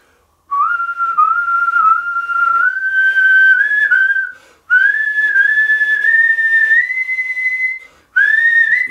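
A professional whistler whistles the melody of the Japanese song Furusato in three clear, sustained phrases with slight pitch scoops between notes, close and alone with brief pauses.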